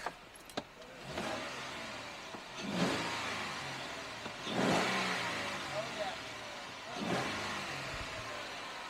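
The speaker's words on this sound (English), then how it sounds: "let's see what it sounds like from inside the Jeep" From inside a Jeep Wrangler, the engine revs up in three or four surging bursts, each swelling and fading, with muffled voices and cabin noise between.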